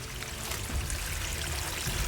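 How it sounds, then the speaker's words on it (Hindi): Steady broadband rush of water flowing in a jungle stream during a hike in India, continuous and fairly close, with no voices over it. "ये पानी बह रहा है"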